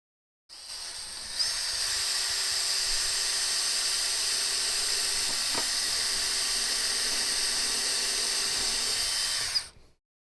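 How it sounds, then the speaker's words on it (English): Small high-pitched power drill boring pilot holes, one steady whining run of about nine seconds that starts and stops abruptly, close and alone. "We'll drill some pilot holes."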